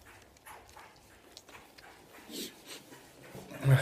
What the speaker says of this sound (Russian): 8 отличных щенков питбулей.